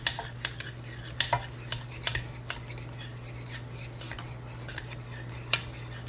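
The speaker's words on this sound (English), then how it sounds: "I'm going to mix that in there with my eggs" A utensil stirring ricotta cheese into eggs in a bowl for homemade gnocchi, with irregular clinks and scrapes against the bowl over a steady background hum.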